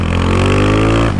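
A Honda Today scooter engine revs hard in second gear, a loud, close, steady buzzing drone that holds for about a second before easing slightly at the end.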